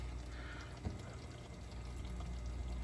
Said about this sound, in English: You can hear it simmering there.